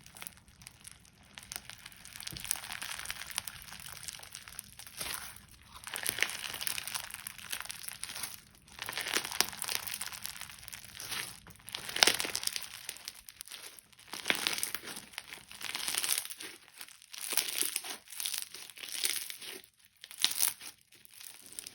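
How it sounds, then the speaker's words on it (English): Crunchy slime filled with binsu beads being squished and pressed, close, quiet crackling and crinkling bursts repeating in irregular waves, with no voices. "This is a binsu bead crunchy slime that I was very excited to try."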